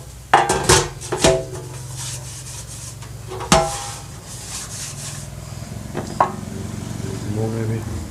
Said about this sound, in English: And the olive oil we have to smear everywhere, all over the pan.